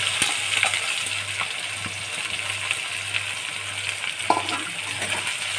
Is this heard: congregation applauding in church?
no